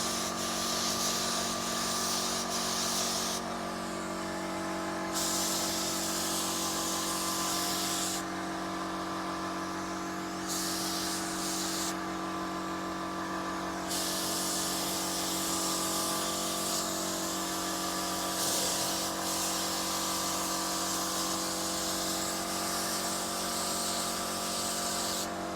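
Steady spray gun hiss while a first half coat of paint goes onto a car or bike, a close and continuous airy spray that briefly drops out and resumes several times, with a low compressor hum underneath.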